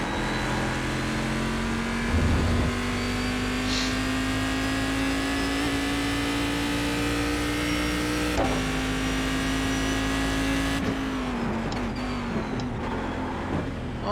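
A race car engine drones at high, steady revs while driving at Watkins Glen in the iRacing video game, with pitch easing down on a shift near the end; loud and continuous with no voices.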